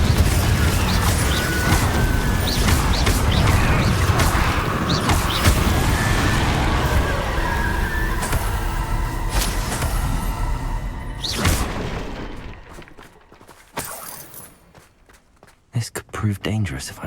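Repeated Confringo blasting-spell explosions in Hogwarts Legacy make a loud, busy barrage of booms, crashes and scuffing footsteps for about eleven seconds, then drop to sparse, quieter hits, with a voice talking over parts of it.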